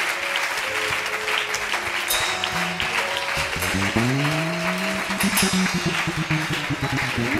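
A church congregation claps loudly and continuously at a prayer service, with scattered cheers and voices rising over the applause.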